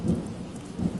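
Steady rain falls outside with low rumbling thunder, a continuous wash of rainfall with two soft swells of rumble, heard from indoors without talk.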